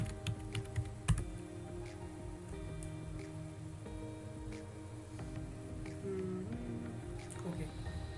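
Computer keyboard typing as an email address and password are entered, a quiet run of close key taps with a sharper tap near the start, under a soft background hum.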